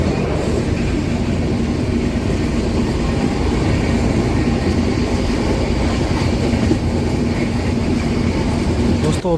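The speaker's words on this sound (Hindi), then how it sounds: "तो अभी अपनी ट्रेन का डिपार्चर हो रहा है ललितपुर जंक्शन से" Punjab Mail train hauled by a WAG9 locomotive departing Lalitpur Junction, a loud continuous rolling rumble of wheels on rails with faint rhythmic clatter throughout.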